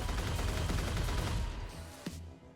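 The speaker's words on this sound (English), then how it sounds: "that will let out a burst of just 3 shots" A charged energy weapon fires in the Crossout vehicle combat game amid a dense, loud roar of gunfire and explosions that fades out near the end, with one sharp crack just after two seconds.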